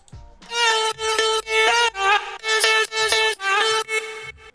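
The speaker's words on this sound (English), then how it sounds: "Next I automated the formant shift as well" Bright synth chords in an FL Studio future house track with automated formant shifting, a series of pulsing, evenly spaced stabs whose tone shifts and morphs across each hit, loud and upfront.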